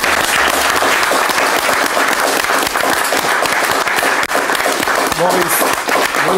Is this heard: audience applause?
yes